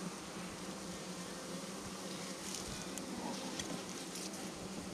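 Honey bees hum in a steady, soft drone during a brood super inspection, a continuous buzz with faint clicks and rustles of frames handled nearby.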